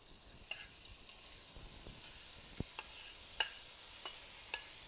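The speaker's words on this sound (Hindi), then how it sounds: "ये हमारी चिकन पैन में जा चुकी है और इसको हम उस वक्त तक सॉटे करेंगे जब तक ये वाइट टर्न हो जाए" Chicken pieces sauté in about a teaspoon of oil in a pan, giving a faint, steady sizzle broken by scattered small pops and clicks, with no talking.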